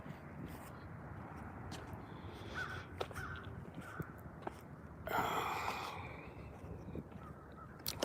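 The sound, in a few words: crows cawing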